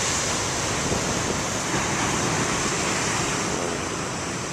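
Big ocean waves break on the shore in a continuous, heavy roar of surf mixed with wind, steady and loud with no voices over it.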